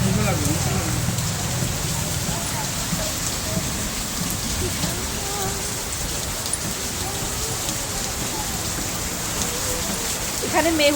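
Steady rain pours down throughout, a dense hiss of drops hitting surfaces, with people talking faintly underneath.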